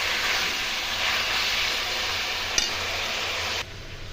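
Chopped ginger and green chilli frying in a pan make a soft, continuous sizzling hiss with one small knock near the end, after which the sizzle drops quieter; no one speaks.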